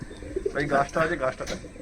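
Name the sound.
Oman teddy pigeons cooing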